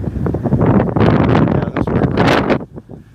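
Strong gusts of wind batter the microphone by the river on River Street in Savannah, Georgia, loud rumbling buffeting that surges and dips in uneven bursts before easing off at the end.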